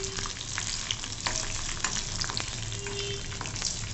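Peanuts and green chillies roast in a hot pan with a steady, close sizzle and light scraping stirs throughout, with no talking.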